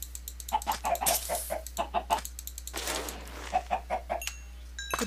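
Repeated short clucks from a chicken in the video game ForgeCraft (Minecraft), a series of close, bright calls in quick bursts with brief pauses, plus a softer noisy stretch in the middle and a few faint game beeps near the end.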